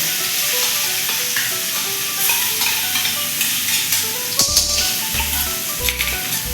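A garlic, green chili and coriander paste with asafoetida sautéing alongside cluster beans in a pan over low heat, giving a steady close sizzle throughout with a few scraping stir clatters partway through; no talking.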